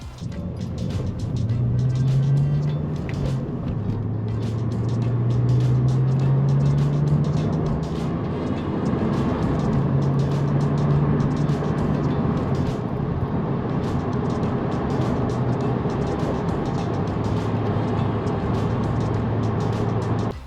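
A nearly silent electric car runs inside the cabin, a low, steady hum over road rumble, its tone rising and dipping gently as the car drives.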